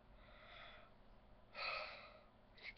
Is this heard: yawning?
yes